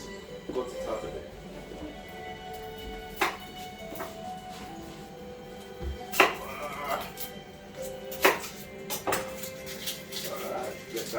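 A knife chops onions on a board in a home kitchen, giving irregular sharp knocks spaced a second or more apart. People talk quietly throughout, and faint clatters of dishes come in between the cuts.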